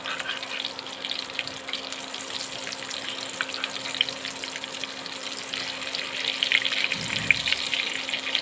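Eggplant pieces frying with potatoes in a pan, giving a steady, dense sizzle that holds throughout, with a soft low thump near the end.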